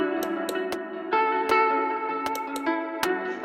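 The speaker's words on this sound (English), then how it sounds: "let's try add a little bit reverb there, make it more ambient" A synth-driven electronic beat made in Reason 11 with sharp, clicking percussive hits, its sustained tones washed in reverb that gives an ambient, spacious tail.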